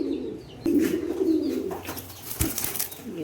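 Giya Chulli pigeons, two hens, cooing with soft low repeated calls in a nearby loft, a brief wing flutter and some background chirps mixed in.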